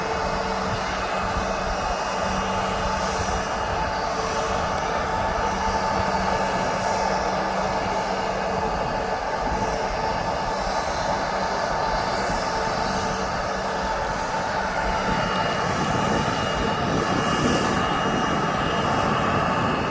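A Boeing 777 airliner passes overhead near Birmingham Airport, heard as a steady, broad jet-engine roar that holds at an even level for the whole stretch, with no speech.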